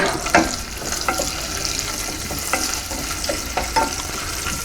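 Butter melting in a pot for clam chowder makes a soft, close sizzle with a few scattered taps and light stirring scrapes, steady and fairly loud, with no talk.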